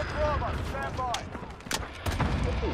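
Gunfire in Call of Duty Modern Warfare multiplayer, with bursts of sharp shots and impacts in close succession, alongside game sounds and a few short chirping tones.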